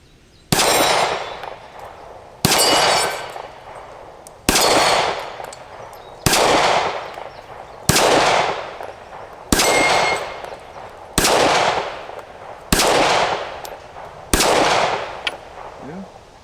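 Eight shots from a Kimber R7 Mako pistol ringing off steel plates, each a sharp crack and metallic clang followed by a fading ring, spaced roughly two seconds apart, loud and close.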